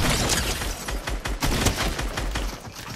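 Gunfire from an enemy player in a battle royale video game, a dense run of sharp repeated shots over about three seconds, fairly loud and steady with no talk.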